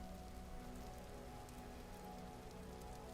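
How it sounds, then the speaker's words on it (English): Steady rain in the video game Vintage Story patters on a surface, a soft continuous hiss with faint droplet taps and a low background hum. "because it's raining."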